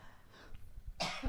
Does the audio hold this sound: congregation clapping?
no